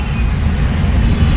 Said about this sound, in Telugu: దింగాన ట్రాఫిక్ చాలా అయింది,